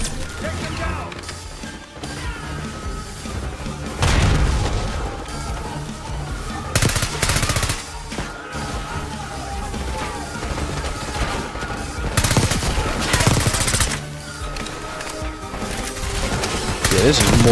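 Rapid bursts of automatic gunfire and loud blasts from the Call of Duty Black Ops 6 video game fill the scene, with repeated heavy volleys over a dense, busy soundtrack of music and effects.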